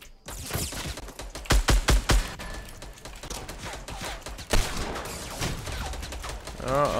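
Gunfire crackles in Fortnite Battle Royale, several sharp shots in quick succession followed by scattered bursts under a busy game mix.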